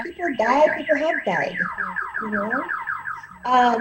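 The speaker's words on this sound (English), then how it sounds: "That's my alarm. I don't know why it's gone off." An alarm sounds in a warbling, repeating pattern throughout, under steady close conversational speech.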